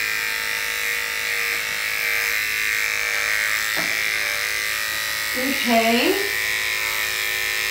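Electric clippers shave against the fur of a cocker spaniel during grooming, a steady close buzzing hum throughout with a brief spoken word over it.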